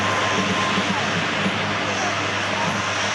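A Hercules military transport aircraft flies past at an Australian airshow, its engines a steady broad drone that holds at a constant level, with a commentator's voice over a loudspeaker.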